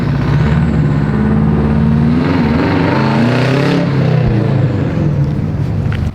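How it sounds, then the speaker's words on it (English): A Mitsubishi Evo X engine revs hard while the clutch is burned. It makes a loud, continuous close-up roar whose pitch climbs and wavers throughout. "Watch him burn the clutch."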